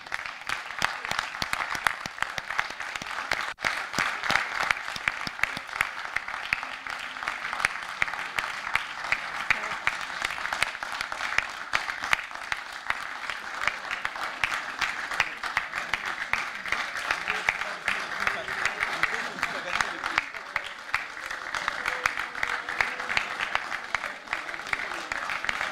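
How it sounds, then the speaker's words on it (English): Sustained applause from an audience after a final student project presentation at a game school, a dense, even clapping that continues at moderate level throughout. "give them a big round of applause"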